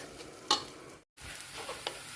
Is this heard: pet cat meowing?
no